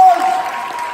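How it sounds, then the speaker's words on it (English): Brief burst of audience applause for hypnosis volunteers at a high school hypnotist show, loud at first and then thinning out, with a steady tone and some voice underneath. "Give our volunteers a big round of applause"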